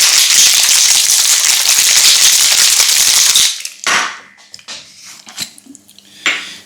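Ice rattles hard and continuously inside a metal cocktail shaker for a few seconds, then stops, followed by a few scattered clinks and taps.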